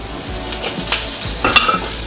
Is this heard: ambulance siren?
no